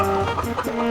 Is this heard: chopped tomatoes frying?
no